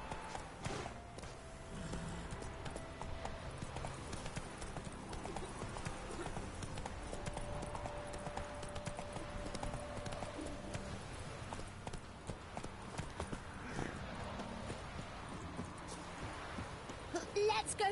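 Horse hooves clip-clop in a steady walking-to-trotting rhythm in The Witcher 3, with a low music bed and a voice speaking over them.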